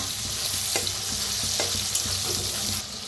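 Mixed vegetables with tomato roasting in a pan over a village wood-fired stove, a continuous close sizzle broken by regular scraping strokes of a spatula stirring them.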